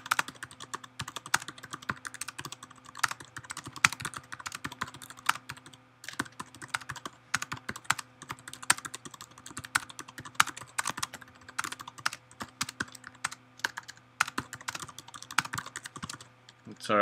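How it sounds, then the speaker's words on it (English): Computer keyboard typing runs steadily for a long stretch, with rapid, uneven clicks and clusters of keystrokes close to the microphone and a faint hum beneath. "Sorry, I'm typing you guys."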